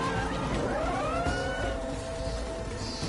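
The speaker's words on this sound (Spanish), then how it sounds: "El gato se me metió acá." A house cat meowing indoors, gives a short drawn-out rising and falling cry close by against a steady background hum, with no talking.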